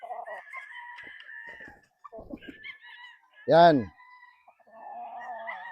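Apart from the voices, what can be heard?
fighting roosters crowing and clucking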